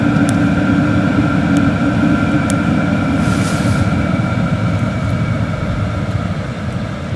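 A portable heater with a modified exhaust and air intake keeps up a loud, even roar after being switched off, with faint periodic ticks, easing only slightly toward the end.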